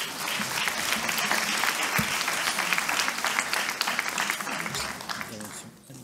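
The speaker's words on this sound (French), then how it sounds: "On peut les applaudir" An audience at a round table session on healthcare access applauds the speakers, bright, dense clapping from many people, holding steady before thinning out toward the end, with faint talk underneath.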